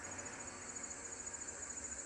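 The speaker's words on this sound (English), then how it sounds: "There are so many trees and crickets here." Steady insect chirring of crickets along the wooded Laurel Bluff hiking trail, a continuous faint high buzz with no voices.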